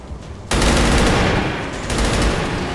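Gunfire from the video game XCOM 2 erupts after a brief quiet moment, a loud sustained burst of rapid shots that rolls on for over two seconds with a slight dip midway.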